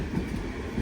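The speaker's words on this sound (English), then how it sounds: "This is the Indian Pacific. It's an enormous train, many carriages long." The Indian Pacific, an enormous passenger train many carriages long, rumbles past with a steady low roll and soft rhythmic wheel thumps, close and continuous.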